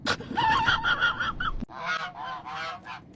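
Ducks and chickens carried aboard a plane honk and squawk loudly and close by, in two raucous bursts separated by a brief break.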